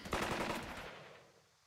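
A machine gun fires in the turn-based war game Burden of Command, a loud, close burst of rapid shots that trails off into a fading echo, with no voices over it.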